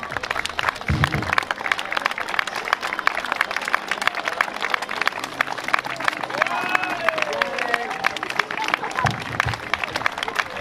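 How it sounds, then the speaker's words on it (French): A crowd at a sports ground inauguration applauds the athletes, a dense, sustained wash of clapping with cheers and chatter mixed in, while a voice speaks over the noise and occasional low thumps sound near. "je vous demande de commencer à les applaudir"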